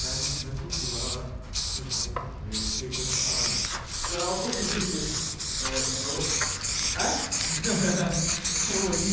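A spray paint can hisses in repeated bursts while graffiti is sprayed nearby, the short pulses broken by brief pauses, with people talking in the background.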